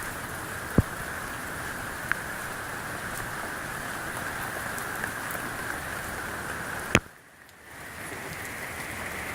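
Steady rain pours onto a zone 9 tropical garden during Hurricane Harvey, a dense even patter throughout, broken by a couple of sharp nearby knocks and a brief dip in the downpour near the end.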